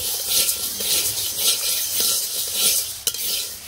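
Moong dal is stirred and dry-fried in a pan in a village kitchen, a close scraping and rustling sizzle with repeated stirring strokes and a sharp clink of the utensil near the end.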